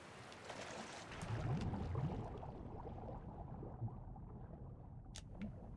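Flowing river current in The Last of Us: a steady, close rush of moving water with soft gurgling that swells slightly and then holds, with a couple of faint ticks near the end and no voices.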